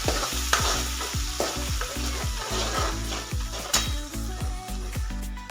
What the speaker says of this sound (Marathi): हे वाटण आपल्याला आता तेल सुटेपर्यंत परतून घ्यायचं